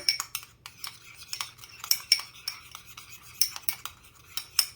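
A spoon stirs ham and cheese slider filling in a bowl, mixed without mayo, making quick scraping clinks and clatters against the bowl in an uneven rhythm, close and fairly loud over a faint low hum.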